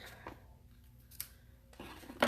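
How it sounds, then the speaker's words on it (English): Scissors snip through paper during a crafting session, a few quiet close cuts spaced apart with one crisp sharper snip at the end. "Okay, so snip. And I'm going to snip that smaller. And snip this one."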